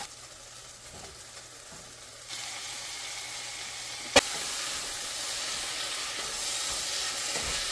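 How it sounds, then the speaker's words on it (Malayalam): Chopped tomatoes sizzle in a pan as they are fried and stirred for a Kerala-style prawn biryani. A steady crackling hiss is broken by a sharp utensil clink partway through. "തക്കാളി ഒരു രണ്ട് മൂന്ന് മിനിറ്റ് നന്നായിട്ട് ഇളക്കി യോജിപ്പിച്ചതിന് ശേഷം ഈ തക്കാളി ഒന്ന് വെന്ത് വരുന്നതിന് വേണ്ടിയിട്ട് നമുക്ക് മൂടി വെച്ച് വേവിക്കാം"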